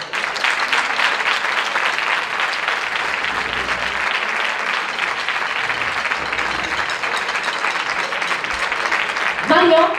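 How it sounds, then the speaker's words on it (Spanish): An audience applauds at a Santa Cecilia concert, dense, sustained clapping filling the hall for the whole stretch, with a voice speaking near the end. "Así que un aplauso para Mario,"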